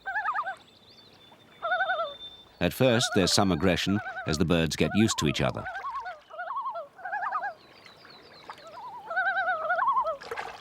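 Common loons gathered on a Canadian lake give wavering tremolo calls in repeated bursts, near and clear, alternating and overlapping with a narrator's voice.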